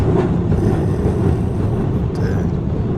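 A tourist train rumbles along steadily inside Postojna Cave, Slovenia, a loud, constant low roar of wheels and carriages with no clear pauses.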